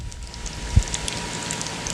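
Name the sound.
chicken frying in a pan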